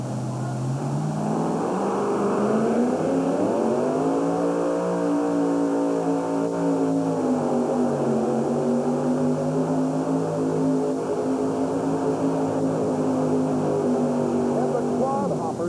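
Chevrolet-powered tractor pull truck rated at 4,000 horsepower, loud and steady engine roar at an indoor 1991 USHRA event in Worcester, pitch rising and falling as the throttle is worked, continuous for the whole stretch.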